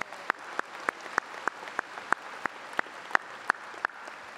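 A small number of hands clap at a steady, even pace at a high school graduation in Lebanon, each clap distinct and moderately close in a quiet room, with no other sound around them.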